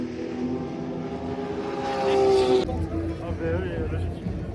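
Historic racing car engines roar past at Circuit Paul Ricard in France, a loud continuous drone with strong harmonic whine that swells to a peak near the middle and then drops as the car goes by, with more engines droning after.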